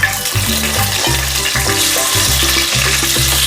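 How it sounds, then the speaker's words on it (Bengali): Potatoes frying in hot oil for chicken pulao, a loud steady sizzle with low rhythmic thumps and scraping from stirring throughout, no voices. "এবার আমি এই আলুটাকে ভেজে নেব ভেজে তুলে রাখবো"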